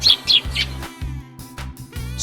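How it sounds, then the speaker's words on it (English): Sparrow chirping in short, sharp bursts, a few quick tweets close by, followed by quieter calls over a low, steady background hum. "Sparrow is one of the most common bird species worldwide"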